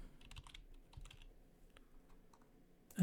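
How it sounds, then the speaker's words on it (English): Quiet, close clicking of computer keyboard keys typed in short irregular bursts with pauses between them, ending in a louder thump. "we just want to type in Google"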